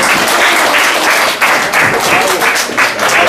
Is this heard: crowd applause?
yes